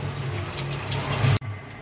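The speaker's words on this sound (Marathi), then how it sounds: "आता स्वच्छ धुतलेली डाळ जी आहे ती या पाण्यामध्ये आपण ॲड करून घेऊया." Washed dal poured into boiling water in a pot, a close, steady rushing splash and bubbling that swells briefly, cuts off sharply, then resumes more quietly.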